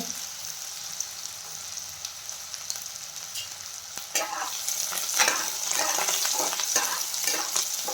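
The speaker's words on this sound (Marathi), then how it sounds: "आणि लगेच आपण कढीपत्ता पण टाकून घेणार।" Curry leaves and finely chopped onion dropped into hot oil for a sprouted moth bean usal, a steady low sizzle that turns into brighter crackling and stirring scrapes partway through, close and moderately loud.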